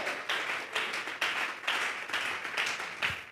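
Church congregation applauding in praise, a steady wash of many hands clapping together in a hall, rising in slight surges, moderately loud and without speech.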